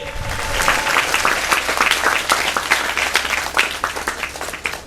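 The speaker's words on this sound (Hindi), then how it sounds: "हम ताली बजाकर परमेश्वर को धन्यवाद देंगे।" A church congregation clapping together in thanks during worship, brisk rhythmic hand claps from many people, fairly loud and close, running steadily for several seconds.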